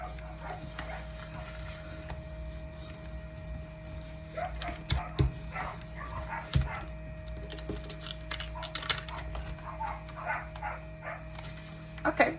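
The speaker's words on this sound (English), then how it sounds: "I don't know why she feels the need to bark at the other dog when she plays with him" A dog barks and yips while playing with another dog indoors, in scattered short barks and whimpers over a steady mechanical hum, with some light handling noises.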